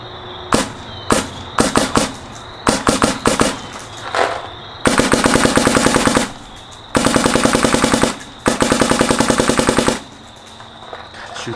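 A Dye DSR paintball marker fires close by, starting with scattered single and short-burst shots, then two long bursts of rapid, evenly spaced shots with brief pauses between them.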